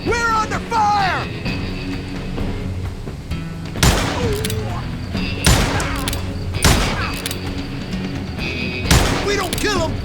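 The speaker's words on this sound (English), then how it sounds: "Who's shooting at us? We're under fire!" Gunfire in the Western shooter Call of Juarez: Gunslinger: several sharp, loud shots ring out at irregular intervals over a musical background, with a voice speaking between them.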